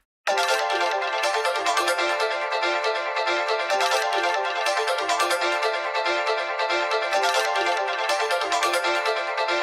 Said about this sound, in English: And then we'll turn up the pitch correction, turn up the sensitivity, turn down the smoothing.